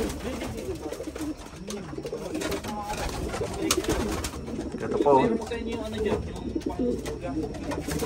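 Pet pigeons in a loft coo and call repeatedly, close by, with overlapping warbling hoots, while people talk over them throughout.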